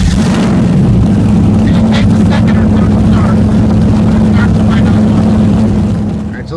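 An engine running on alcohol fuel through a Ron's primer plus setup cranks and fires, then holds a loud, steady, close drone for about six seconds before easing at the end.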